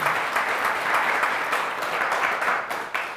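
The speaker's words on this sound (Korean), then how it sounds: "박수 한번." Sustained applause from an audience at a Buddhist Dharma service held to comfort military personnel, a dense steady wash of many hands clapping with no voices over it.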